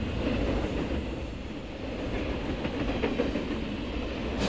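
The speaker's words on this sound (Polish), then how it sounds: "Dokąd jedzie ten pociąg?" A train runs along its rails with a steady, dense rumble and a faint clatter of wheels that holds at an even, close loudness for the whole stretch, with no voices.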